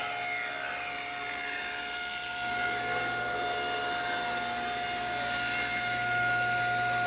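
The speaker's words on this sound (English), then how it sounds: "run the form and the panel through the saw like this" A table saw trims a panel riding on a form sled, its blade running as a steady loud whine and whir that builds slightly as the cut proceeds, alone without talk.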